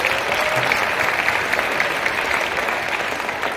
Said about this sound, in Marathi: जोरात टाळ्या होत्या आपल्या या विद्यार्थी मित्रासाठी.